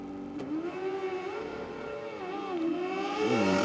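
A drag racing car idles and revs at the start line of Sydney Dragway, its engine tone rising and falling in wavering pitch swells, fairly loud and building toward the end, with no talking.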